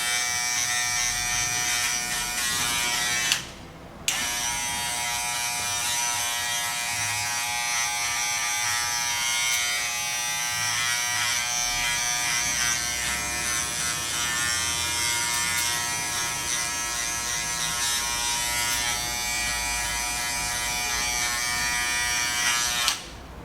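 Electric hair clippers buzzing continuously while cutting hair for a short men's cut, guard set at 1.5 on the second stage, a close steady drone with one brief pause near the start.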